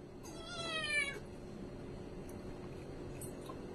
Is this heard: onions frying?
no